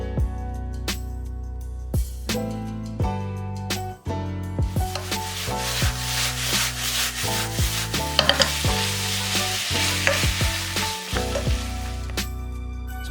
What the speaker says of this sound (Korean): 면사리 넣고 소스 넣고 골고루 버무려서